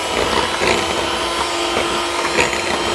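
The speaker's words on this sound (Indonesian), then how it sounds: "Lanjut kita mixer sebentar." Electric mixer whirring steadily through pukis batter with UHT milk at low speed, a continuous close motor drone with faint scraping and rubbing accents, no talking.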